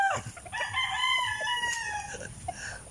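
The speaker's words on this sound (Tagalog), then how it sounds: "Yan na yung ating mga manok." Backyard chickens in a muddy, rain-soaked pen cluck and chatter while a rooster lets out a long crow, several birds calling at once at close range.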